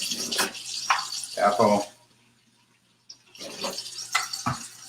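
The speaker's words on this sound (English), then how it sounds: "wash these up real quick. Cucumber, watercress. Doing a quick rinse up." Cucumber and watercress rinsed under a running kitchen tap, with steady splashing water that stops midway and then resumes, while a person speaks over it.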